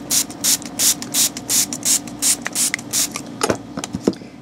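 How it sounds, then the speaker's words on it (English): Spray bottle spritzing water onto photo transfer paper in a quick, even rhythm of about a dozen short hissing bursts, close and fairly loud, followed by a few softer rubbing and tapping sounds toward the end. "So you're just going to spritz, wet, and rub"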